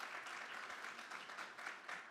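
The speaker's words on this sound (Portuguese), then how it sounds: "peço uma salva de palmas para ele" An audience applauds a guest at a panel on communication regulation, a steady wash of clapping that holds at an even, moderate level for the whole stretch, with no voices over it.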